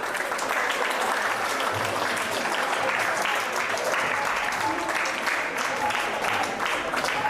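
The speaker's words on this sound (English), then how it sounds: "Let's give a round of applause to Coach Amoy" A crowd of players and guests at a chess tournament gives a round of applause for Coach Amoy, dense steady clapping filling the room throughout, with faint voices mixed in beneath.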